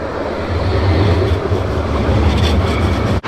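Low, steady rumbling of traffic and trains passing overhead, heard from a path beneath them in Luxembourg, loud and continuous with no talk over it.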